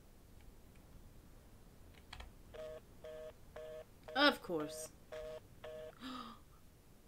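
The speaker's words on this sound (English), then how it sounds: "I thought maybe I can find a telephone to call for help" Telephone keypad tones being dialed in a horror video game, a quick series of evenly spaced beeps, faint and close, with a brief spoken word in the middle.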